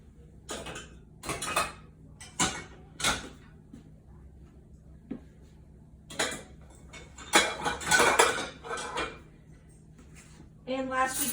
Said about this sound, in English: We can put some of our pots and pans in.